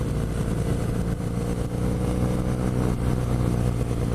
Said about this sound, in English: The engine sounds so nice. I love that boxer sound.